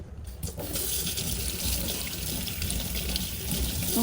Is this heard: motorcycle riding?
no